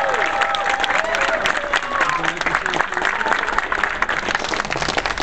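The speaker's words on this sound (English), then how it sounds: "Give her a big round of applause." An audience applauds a guest of honor at an event's opening, with sustained clapping and some cheering from a crowd while a voice talks over it.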